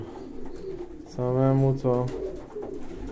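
Pigeons coo indoors in a low, throaty burst of two phrases lasting under a second each, close and fairly loud, over a background of room noise and nearby movement.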